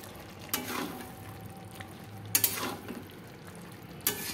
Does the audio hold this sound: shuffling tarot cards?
no